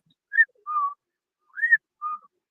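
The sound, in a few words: person imitating a whistling sound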